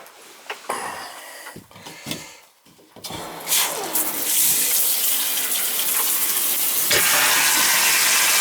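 Hot water gushes from an American Standard tub shower faucet into a tub, starting with a few knocks and splashes, then a steady loud hiss of running water.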